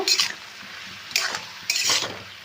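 Spoon stirring green chillies and turmeric in a cooking pot, three short scraping clinks against the metal over a soft background sizzle, close and moderately loud.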